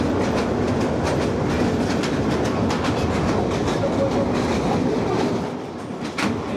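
Kalni Express passenger train rolling along the rails after leaving Brahmanbaria station, heard from on board as a loud continuous rumble with steady clickety-clack of wheels over rail joints, easing slightly near the end.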